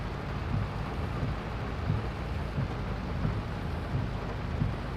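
Steady rain with low rumbles of thunder in the farming game Farming Simulator 22, on the Elm Creek map during an olive harvest, a constant wash with soft periodic low thuds and no talk.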